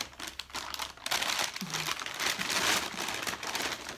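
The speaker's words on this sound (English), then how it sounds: "look at me in my plastic bag." A plastic bag holding knitting projects crinkles and rustles close up for several seconds, loud and continuous with brief pauses, without talk.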